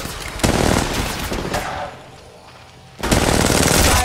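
Loud automatic gunfire in the mobile shooter Apex Mobile: a sustained burst of rapid shots, a short lull of quieter game sound, then another dense, close burst of firing.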